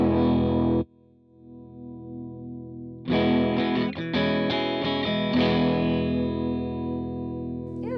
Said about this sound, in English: So I like this sound, but I'd like to turn the gain down just a little bit.